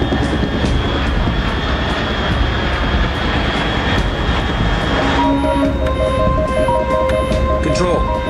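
A jet aircraft in the Metal Gear Solid 3: Subsistence video game roars loudly and steadily; partway through, electronic beeping and tones join the engine noise.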